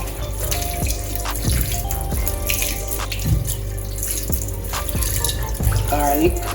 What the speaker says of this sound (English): Wash my seasonings.